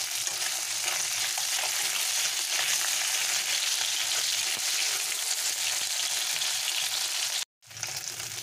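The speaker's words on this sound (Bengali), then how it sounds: "মাছটা আমার ভাজা হয়ে গেছে দেখতে পাচ্ছ।" Latha fish (snakehead) frying in oil, a loud, continuous close-up sizzle and crackle with faint stirring, cut by a brief drop to silence near the end before the sizzle resumes.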